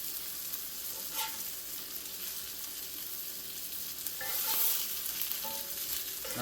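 Slider patties searing in a preheated cast iron pan give a steady, moderately loud hiss of frying fat, swelling briefly near the end as a patty is pressed, with a few faint utensil taps and no voices.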